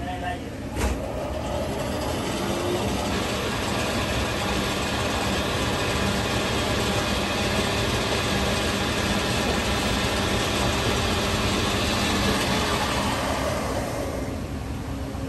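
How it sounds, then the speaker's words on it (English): Traction elevator driving machine from the 1980s by Dover, a steady broadband mechanical rumble and hum running continuously and fairly loud throughout. "That was a view of a 1980s Dover traction elevator driving machine."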